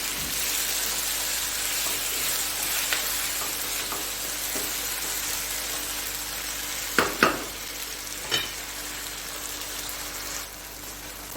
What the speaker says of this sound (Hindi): अब इसमें डालूंगी टमाटर, और इसको भी थोड़ा सा कुक करना है।